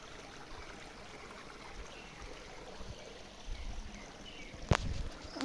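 A shallow, nearly dried-up river trickles steadily, a soft continuous wash of water heard fairly close with no voices, and a brief sharp rise near the end.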